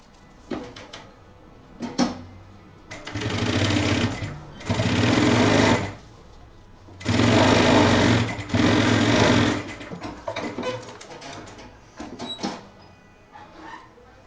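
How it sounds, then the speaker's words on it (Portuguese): A sewing machine stitches a zipper onto a men's backpack, running in several loud, steady whirring bursts of a few seconds each, separated by brief pauses with small handling clicks and fabric rustles. "aqui eu vou posicionar frente com frente e costurar o meu zíper"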